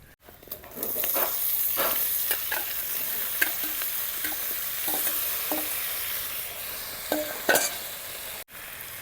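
Taro stolons and jackfruit seeds go into a pan of fried dried fish, onion and garlic, sizzling steadily while a utensil stirs and scrapes the mix with short clattering strokes.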